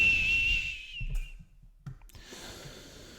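A booger whistle sound effect: a sustained high thin whistle for under a second, followed by quiet clicks and breathy noises, faint overall.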